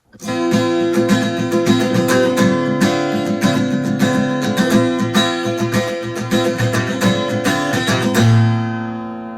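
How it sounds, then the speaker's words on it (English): An electric guitar plays the intro of a song, with quick rhythmic strums of ringing chords driving steadily for several bars before a final chord is left to fade, alone with no voice. "Now, to play the entire intro, it should sound like this."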